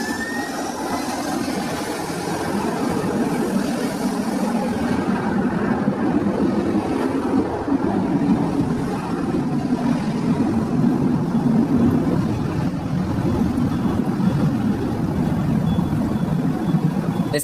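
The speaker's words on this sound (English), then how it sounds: "This Airbus A330 really showing off its engine power because of the wet runway." Jet engines of an Airbus A330 roar at high power on a wet runway, a loud, steady broadband rumble with spray hiss that holds constant throughout, no voices.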